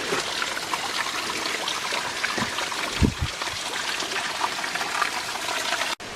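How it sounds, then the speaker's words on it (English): Water running down a wet section of trail fed by a spring at Well's Hill/Joy Gleghorn Nature Preserve in Tennessee. It makes a steady, close, broadband rush with a few soft knocks, and no one speaks. "there is a lot of water coming down"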